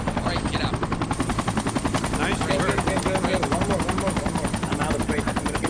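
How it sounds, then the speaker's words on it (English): Helicopter rotor thumping steadily at close range in the military shooter game Project Reality, with gunfire bursts mixed in and players talking over the whole stretch. "Is the chopper coming back for me"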